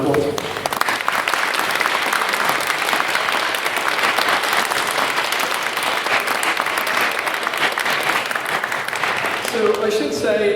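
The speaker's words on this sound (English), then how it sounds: "I'll offer another round of applause." Audience applause fills a debate hall after the chair is thanked, a dense, steady wash of clapping from a large crowd that holds loud and even throughout before easing slightly at the very end.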